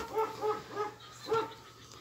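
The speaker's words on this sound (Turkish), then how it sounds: "Kaç tane köpekleri var?" Dog giving several short yelping barks and whimpers in a quick uneven series, fairly close and clear, with a soft low hum underneath.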